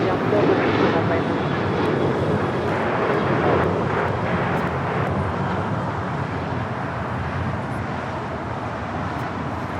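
An American Airlines Boeing 737-800 jet at Los Angeles International Airport gives a loud, steady engine roar that holds throughout, broad and close, easing only slightly toward the end.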